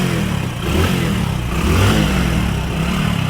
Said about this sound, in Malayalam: ഇനി വണ്ടി ഒന്ന് നമുക്കൊന്ന് സ്റ്റാർട്ട് ചെയ്ത് നോക്കാം.